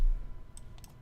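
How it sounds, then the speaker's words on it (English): Computer keyboard typing, a few quick light clicks close by over a faint background hum, brief and without talk. "You're going to type in the Anunnaki"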